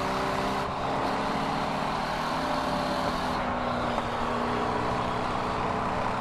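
Chevrolet Corvette Z06 and a 1967 Mustang track car racing through a circuit's S-bends, a continuous engine roar at moderate distance with no gaps.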